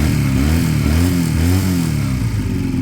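A Piaggio Fly scooter engine revved up from idle, close and loud, with the pitch climbing and falling in a few quick surges before settling back to a lower steady idle.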